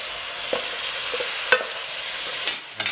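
Fettuccine being tossed in a pan with guanciale and zucchini cream, a steady soft sizzle with a few scraping stir clicks and a louder clatter of utensil against pan near the end, close and without talk.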